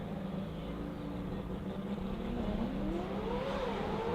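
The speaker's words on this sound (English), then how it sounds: "All right, so the McLaren gets out there." McLaren sports compact drag car accelerating down the strip at a drag racing final, heard as a steady engine roar with rising pitch at moderate distance.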